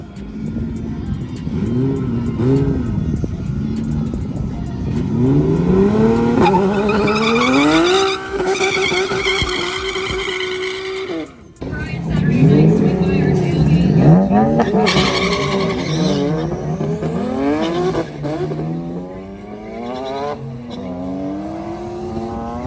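An upgraded-turbo Nissan Z launches at a drag race event, its engine roaring loudly and rising in pitch through several gear pulls, with tire noise and a brief cut before the revs climb again, close and continuous.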